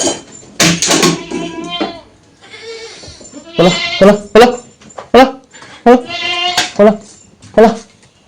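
Goats bleating inside a home, several loud, wavering bleats repeating close by in short bursts, with people talking in between and over them.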